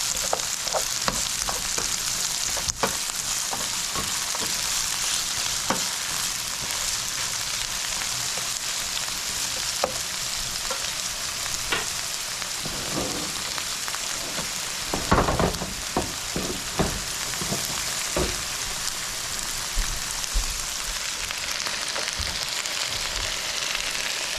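Chopped scallions and peppers sizzle steadily in a hot pan, a dense, even crackle running throughout with occasional louder pops and stirring clinks, close and alone without talk.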